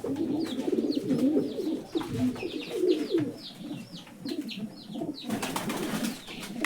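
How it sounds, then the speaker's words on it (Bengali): Pigeons coo in low, repeated throaty calls, close by, with a few brief higher chirps and a rustle near the end. "আমাদের সকল কবুতরের ডাক বালা, কিন্তু এই নটটার ডাক একটু কম দেয়"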